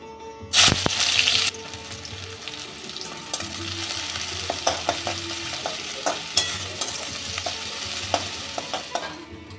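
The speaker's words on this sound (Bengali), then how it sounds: "তেলটা গরম হয়ে গেছে এবার আমি বেশ কিছুটা পেঁয়াজ দুটো পেঁয়াজ খুব মিহি করে কুচো করে নিয়েছি এই পেঁয়াজটা আমি একটু বেরেস্তা ভেজে নেব" Finely chopped onions hit hot oil with a loud initial sizzle, then settle into a steady, close frying crackle with occasional stirring clinks, heading toward golden fried onions.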